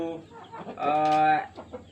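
A chicken among poultry livestock gives a loud, close, drawn-out cluck followed by a few shorter clucks, with brief background murmur around it.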